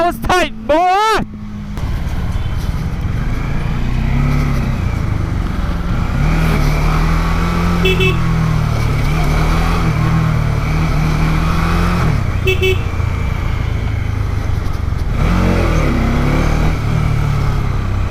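A motorcycle rides through busy Indian street traffic, its engine droning loud and close throughout with shifting pitch, wind rush and horns from surrounding vehicles, and someone talks at points over the noise.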